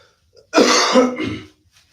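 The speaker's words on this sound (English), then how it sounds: "Focus on my cough." A single short, throaty cough close to the microphone, with silence before and after.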